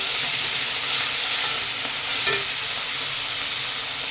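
Prawns, onion and green chili sizzle steadily in a pan, a close, continuous frying hiss with a brief stirring clatter partway through.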